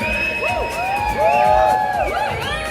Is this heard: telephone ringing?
no